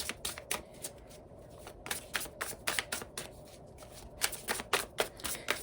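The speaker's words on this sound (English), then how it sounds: "Y'all see, I'm shuffling. The card's not coming out." Tarot cards riffle-shuffled repeatedly up close, crisp fluttering bursts in an uneven rhythm with short pauses between them.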